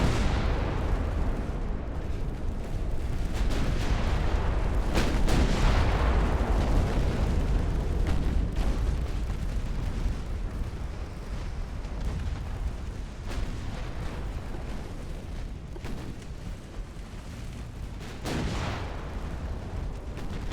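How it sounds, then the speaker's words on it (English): In Ultimate Admiral: Dreadnoughts, with 1890-era warships, a torpedo strikes a ship in a deep rumbling blast, with heavy booms and continuous low explosive roar from naval battle, loudest around two bursts. "That's a torpedo."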